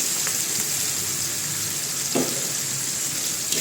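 Tomato gravy goes into a hot pan of peas for a chole pulao and sizzles loudly. A steady close frying hiss runs throughout, with a brief burst of spattering partway through.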